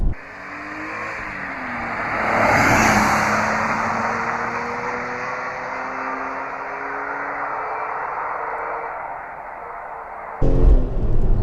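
BMW E46 M3 with SMG gearbox, engine and exhaust accelerating hard from inside the car, a rising drone through a long pull with a rough surge early, then a sudden loud burst at the end.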